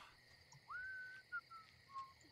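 A video game character whistles a faint, thin tune of a few short notes with gaps between them over a quiet background.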